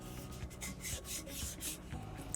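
A spatula scrapes wax out of a Lycon wax heater in soft, repeated rubbing strokes, a faint, close, rasping texture that pulses with each pass.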